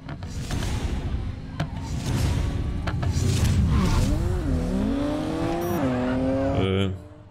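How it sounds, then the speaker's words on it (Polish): An Audi launching at a race start in Need for Speed Payback, the engine revving and rising in pitch with tyre squeal, loud and continuous before cutting off, with someone talking over it. "O, jak to Audi dziwnie startuje!"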